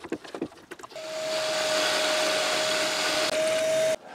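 A power tool bores a 70 mm hole into a wooden board through a pre-drilled pilot hole. A few short knocks come first, then a loud, steady whirring drone with a sustained whine that stops abruptly near the end.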